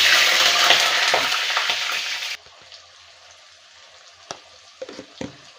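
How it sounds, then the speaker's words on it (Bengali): Salted potatoes fry in hot mustard oil in a kadai, a loud dense sizzle for the first couple of seconds, then quieter frying with a few sharp clinks and stirring scrapes. "আলুটা ভেজে নেবো প্রথমে।"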